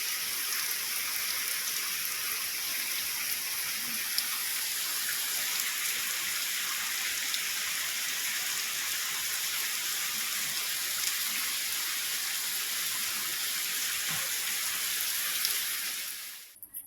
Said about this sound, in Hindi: देखो कितनी तेज़ बारिश आ गई